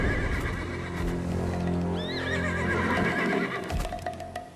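Horses whinny and neigh in Black Desert Online amid clip-clop hooves, with a couple of shrill rising whinnies over a steady low game ambience.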